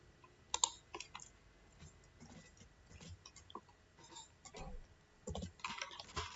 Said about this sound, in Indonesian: Ketikkan perintah